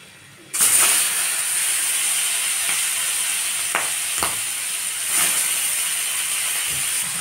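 Singi fish coated in salt and turmeric frying in oil in a pan, starting with a sudden loud hiss as it hits the oil and settling into steady, close sizzling with a few clicks and bumps.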